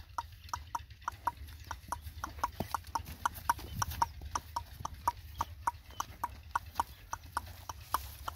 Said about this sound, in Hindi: घोड़ी डांस कर रही है इस टाइम